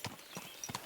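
A horse's hooves clip-clop in the medieval video game Kingdom Come: Deliverance II: three quick, faint, evenly spaced hoofbeats on the ground, heard alone.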